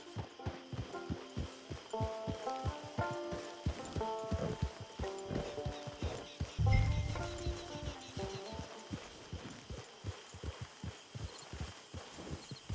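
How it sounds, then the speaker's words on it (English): Steady clip-clop of horse hooves walking, rhythmic and fairly close, over a soft background of music and ambient game sound, in the video game Red Dead Redemption 2. "Get your horse."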